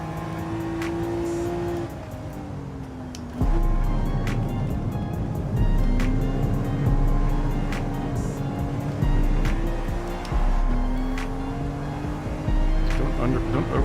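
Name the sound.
BMW M2 Competition car engine in the video game Gran Turismo 7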